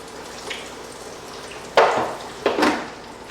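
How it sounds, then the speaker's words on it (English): Fish dropped into hot oil in a catch-and-cook setup crackles with two sharp bursts of sizzling that swell and fade, each following a faint clink, with no talking. "Get a nice little sizzle here."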